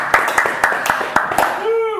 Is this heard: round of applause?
yes